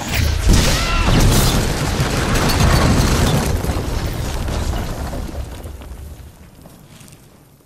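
Bombarda blasting spell from a Harry Potter film, a loud booming explosion with rumbling debris and crackle that slowly fades over several seconds.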